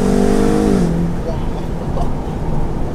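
BMW M8 Competition convertible on a tree-lined country road, its engine revving up and then easing off, loud and close with a rising-then-falling harmonic tone, while someone speaks over it.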